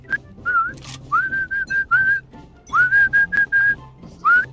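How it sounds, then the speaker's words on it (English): A person whistles a string of short, clear, bright notes in quick phrases with brief gaps, loud and close, over faint background game sound. "I practice whistling so much."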